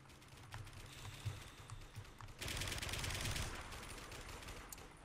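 Rapid automatic gunfire rattles in the first-person shooter game Warmode, a fast crackling burst that grows louder and denser midway, over a constant background din with no speech.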